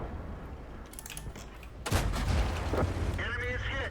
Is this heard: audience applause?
no